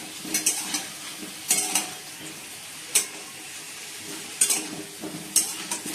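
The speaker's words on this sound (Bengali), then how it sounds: "আলুগুলো ভাজা আলাদা হয়ে গেছে ভাজা" Potatoes sizzle steadily in a hot pan while a utensil scrapes and clinks against it every second or so. No one speaks.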